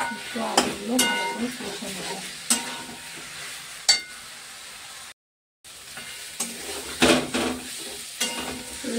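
Boiled potatoes fried and stirred with spices in a pan: a low sizzle runs under repeated scraping and clinking strokes of a spoon against the pan, with one brief silent gap midway.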